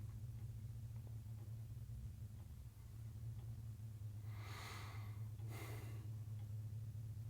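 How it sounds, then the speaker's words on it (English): A truck engine idling, a constant low rumble with a steady hum close by, plus two brief breathy bursts of noise over it. "Turn off the fucking truck."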